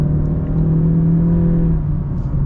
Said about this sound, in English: let's get our full-blown acceleration here